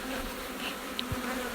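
Honeybees hum in a dense, continuous drone at an open beehive, close and steady, with a few individual bees briefly buzzing past, with no talking.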